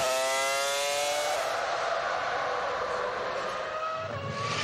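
Formula 1 race cars from the 2004 season slowing for a restart, loud high-pitched engine whine that drops in pitch as the pack decelerates, close by and continuous.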